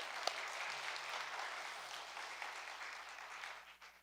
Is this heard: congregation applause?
yes